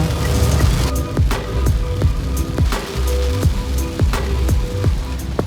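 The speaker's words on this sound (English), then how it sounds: "It is raining and we're on a road trip." Rain patters steadily on a surface during a road trip on a rainy day in Bohol, Philippines, with louder drops striking at a regular pace over a low rumble.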